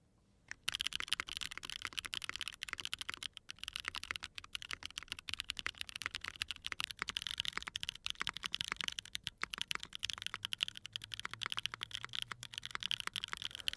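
Rapid, quiet keystrokes on a mechanical keyboard fitted with Chosfox Hanami Dango linear and tactile switches in nylon housings, a steady stream of soft clacks with no talking.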